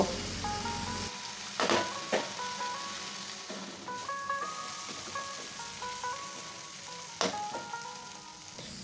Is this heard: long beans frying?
yes